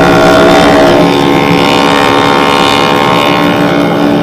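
Dirt bikes ride a bumpy walking track while a rider pulls a wheelie, engines droning loud and steady up close with a sustained buzzing roar that hardly varies.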